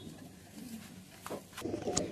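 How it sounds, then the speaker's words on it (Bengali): A male Madrasi high-flying pigeon in a Behala, Kolkata loft gives a short, soft, low coo, close by and alone. "মেল আছে, ম্যাড্রাস পায়রা। ম্যাড্রাসি পায়রা।"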